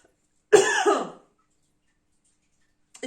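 A single close, harsh cough bursts out, followed by silence and then a brief hint of another sound at the end.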